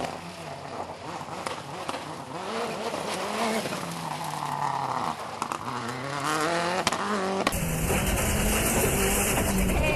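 A Subaru rally car drives a stage at the 2003 Kilbroney Stages Rally, its engine revving hard and shifting pitch as it passes, with tyre and gravel noise, then a sudden harsh loud change near the end.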